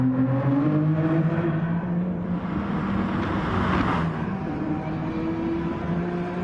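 Racing car engines at Suzuka in a GR4 sim race championship, a steady, droning whine of several cars at high revs, pitch sliding up and down through gear changes, loud and continuous with no talk.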